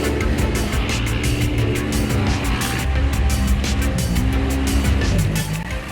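SSV buggies, Polaris RZR 900 XP side-by-sides, racing in a 2011 trophy final, with engines roaring loudly and steadily and a few revving surges throughout.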